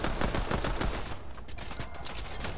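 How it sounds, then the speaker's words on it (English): Rapid bursts of enemy gunfire in Fortnite, loud and dense throughout, with overlapping shots rattling continuously with no talking. "He's shooting still."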